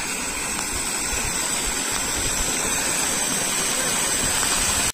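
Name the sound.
water overflowing a bridge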